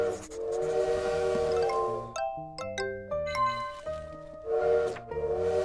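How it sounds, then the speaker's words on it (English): A train in the cozy video game Little Witch in the Woods sounds a steady, whistle-like tone with rumbling underneath, followed by a chiming ding-dong melody of bell notes before the whistle returns. "the train is probably going to leave without us"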